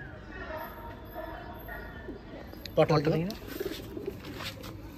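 Madrasi pigeons in a loft give a short burst of throaty cooing in the middle, close and fairly loud, over a low background murmur.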